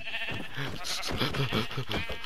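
Sheep in the Minecraft video game bleat in a quick run of several wavering, nasal calls, close and clear with little else around them.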